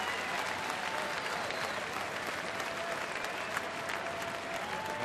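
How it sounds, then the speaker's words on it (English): Crowd applauding steadily at a baseball game between the Giants and Milwaukee at Miller Park, a dense, even wash of clapping from the stands with a faint commentator-style voice underneath. "an appreciative crowd here at Miller Park"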